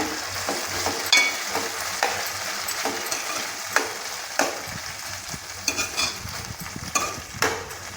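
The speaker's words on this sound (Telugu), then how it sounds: "ఇప్పుడు ఉడకబెట్టి పక్కన పెట్టుకున్న రొయ్యలు వేసుకున్నామండి ఇప్పుడు మొత్తం ఇలా కలుపుకుందామండి" Boiled prawns are stirred into a sizzling pan with onions and green chillies for a ridge gourd curry, a steady fry punctuated by repeated scraping strokes of the spoon, close and fairly loud, with no talking.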